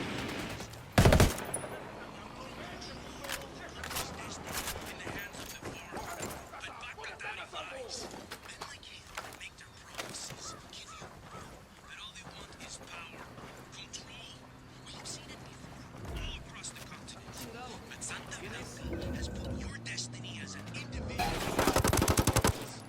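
Automatic gunfire in the video game Ghost Recon Wildlands, with rapid machine-gun bursts and single shots crackling through a firefight, plus louder blasts near the start and end, under combat chatter and game ambience.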